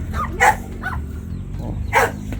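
Exotic bully puppies bark at a dog show, with two loud, sharp yips close by about a second and a half apart and softer barking in between.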